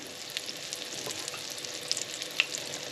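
Cornmeal-coated green tomato slices, dredged in flour and egg, fry in a hot pan with a steady broadband sizzle and a few small pops and crackles throughout.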